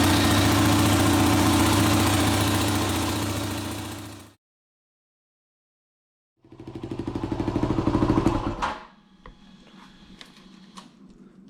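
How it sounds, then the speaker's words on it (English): A Yamaha WR250R motorcycle engine idles steadily as it warms up, a loud throbbing hum, then cuts to silence for about two seconds before rumbling again, revving briefly and dropping to a quieter, rattly idle. "Start the engine, warm it up for several minutes, and then turn it off."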